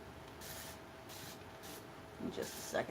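Several short hissing bursts of a spray bottle, evenly spaced, with faint background noise and a bit of handling noise toward the end.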